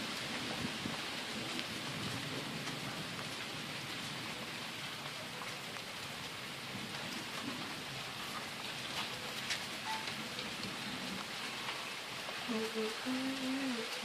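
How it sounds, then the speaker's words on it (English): Steady, dense rain pours down during a thunderstorm outdoors, a continuous close hiss throughout with no breaks, and a voice murmurs briefly near the end. "I need this bit of rain"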